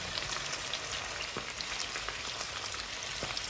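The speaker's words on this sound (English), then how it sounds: "Use high heat to fry the prawns." Prawns frying in hot oil over high heat for a Sichuan spicy shrimp stir fry: a steady, dense sizzle with scattered crisp pops and spatters, continuous and close throughout.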